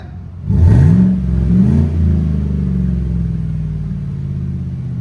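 A 5.3L V8 in a 2019 Chevy Tahoe with a Flowmaster Super 10 exhaust barks through one sharp throttle blip, a quick second rise, then falls back to a heavy, loud idle drone up close.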